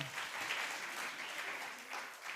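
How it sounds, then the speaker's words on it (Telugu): A church congregation claps together, a soft continuous wash of many hands heard from some distance, steady in level throughout. "చప్పట్లు కొట్టండి స్లోగా"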